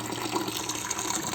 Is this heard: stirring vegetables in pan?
no